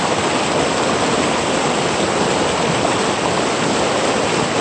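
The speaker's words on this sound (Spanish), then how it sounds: "bien caudaloso el río." The Rio del Rosario running full and strong, a loud, steady broadband rush of flowing water heard up close with no voices.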